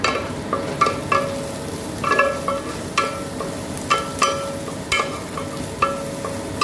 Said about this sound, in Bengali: একটু পেঁয়াজটা ভাজা ভাজা হোক,